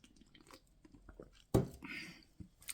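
One quick sip from a drink, heard as a short, close wet slurp and swallow in an otherwise quiet room, with soft mouth sounds before and after.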